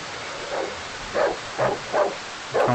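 Dog in the horror game Darkwood barks in a string of five or six short, rough woofs at a steady pace, fairly close, over a low background hiss.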